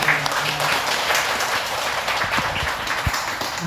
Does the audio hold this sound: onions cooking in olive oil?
no